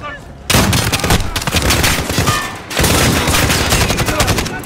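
Dense rapid gunfire bursts from multiple weapons in Call of Duty: Modern Warfare, loud and continuous, with a short pause before another sustained volley.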